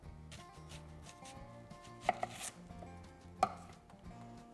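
A knife slices an onion into rings on a board, with a few sharp chopping knocks over a quiet background hum.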